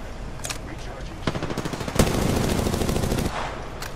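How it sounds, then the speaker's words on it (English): Rapid bursts of automatic gunfire from a video game crackle in dense volleys, with a louder sustained stretch of shooting in the middle and voices talking over it. "They're shooting at him still."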